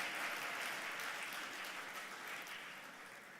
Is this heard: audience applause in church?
yes